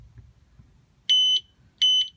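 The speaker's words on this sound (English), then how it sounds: "the LED flashes and the beeper beeps." A directional indicator buzzer on a vehicle gives two loud, shrill electronic beeps about three quarters of a second apart, each lasting roughly a quarter second, with near silence around them.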